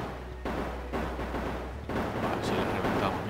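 Monsters fire in the survival game Grim Nights in a dense, rumbling barrage of overlapping shots and thuds that pulses steadily, with a voice talking over it.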